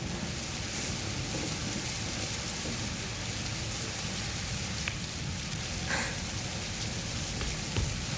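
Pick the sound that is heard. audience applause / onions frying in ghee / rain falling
rain falling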